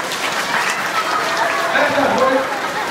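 Children at a boarding school in Dhading clapping their hands together in a quick, steady patter, close and fairly loud, with voices mixed in.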